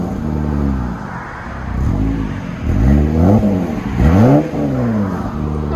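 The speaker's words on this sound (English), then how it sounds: "That's a clean sound. Give it gas." A 2022 Jeep Gladiator's 3.6L V6, breathing through a Borla S-Type cat-back exhaust, blips through a series of loud, close revs that rise and fall, each climbing sharply before dropping back to a steady idle rumble.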